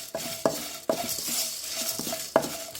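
Ingredients sautéing in a little oil for a Chettinad chicken curry: a faint sizzle under a few sharp, ringing clanks of a ladle scraping and tapping the pan, spaced unevenly and close by.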